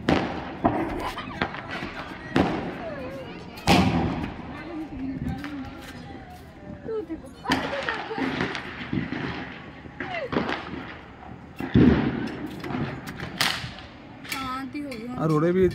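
Diwali firecrackers bursting in a Punjabi village, loud sharp bangs and cracks at irregular intervals, some close and some farther off, with people talking throughout.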